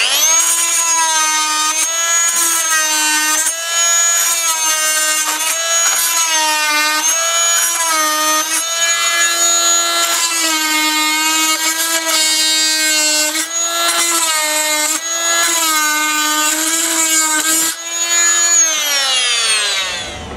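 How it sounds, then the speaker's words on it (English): Oscillating multi-tool with a flat blade cutting timber plugs flush on decking, a continuous high buzzing whine with strong harmonics that wavers in pitch as the blade loads and eases, close and loud, ending as the tool winds down. "This is the fine oscillating tool. It has a flat blade on the underside and it's perfect for cutting the plugs off."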